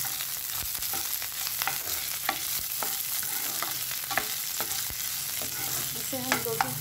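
Cauliflower and green vegetables stir-frying for masala upma, a low steady sizzle punctuated by frequent sharp spoon strikes and scrapes, a few clinks near the end, no one speaking.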